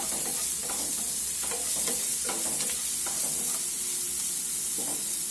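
Onions and green chillies fry in a pan with salt, a constant close sizzle broken by the scrape and clatter of a spoon stirring them, with no voices.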